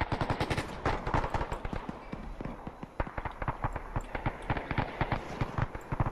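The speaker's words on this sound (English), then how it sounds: "Taking rounds." Rapid automatic gunfire from an Arma 3 amphibious island assault, dense bursts of sharp cracks rattling continuously and fairly close, with no speech over it.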